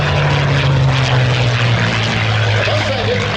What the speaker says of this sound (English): Mustang is inbound once again.